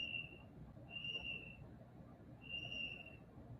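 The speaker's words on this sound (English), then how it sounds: "I hear a whistle." Thin, steady high whistle in three separate blasts, each about half a second long, distant and faint over a low background rumble.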